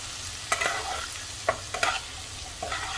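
Potatoes with green garlic, coriander powder and red chili powder being stirred in a frying pan: a steady sizzle under several distinct scraping clinks of a spoon against the pan, close and moderately loud, with no talking.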